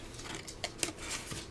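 Scissors snip through paper while a skinny folio is cut down a score mark, a few quiet, close crisp cuts separated by brief pauses.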